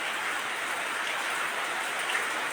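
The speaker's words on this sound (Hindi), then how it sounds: "लेकिन बारिश हो रही।" Steady, dense rain falls continuously as a loud even hiss, with no voices.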